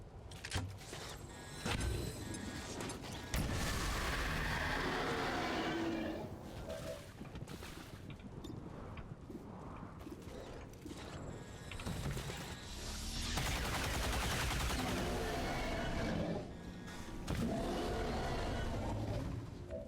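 Grenade blast and gunfire in the turn-based strategy game XCOM 2: War of the Chosen, heavy bursts of noise that rise sharply and hold, with dense mechanical clatter and music-like tones throughout, no talk.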